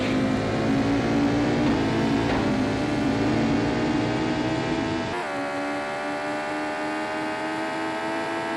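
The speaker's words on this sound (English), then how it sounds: "You really get that positional effect of the other vehicle as you go past." Another car sweeping past in a racing video game, rendered with Aureal A3D positional audio: a steady loud engine drone that shifts abruptly in tone partway through as the vehicle goes by, with no voices.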